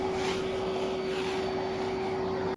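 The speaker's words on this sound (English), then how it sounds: "the vacuum was set to the lowest suction setting, and it still had no problem sucking up all the cat fur that was on the chair" Famree F3 Pro pet grooming vacuum running on its lowest suction setting, a steady close whirring hum with a constant tone that cuts off abruptly at the end.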